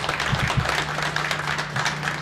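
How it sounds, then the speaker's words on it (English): A crowd claps steadily, a dense wash of applause at moderate volume with a low steady hum underneath. "Let's give them a round of applause."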